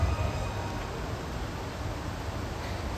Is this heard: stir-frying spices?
no